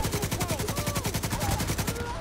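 An RPK light machine gun in The Division 2 fires one sustained automatic burst, with rapid, evenly spaced loud shots running the full two seconds.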